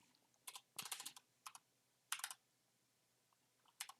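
Short bursts of typing on a computer keyboard, quick clusters of soft clicks separated by pauses, heard close and quiet with no voices.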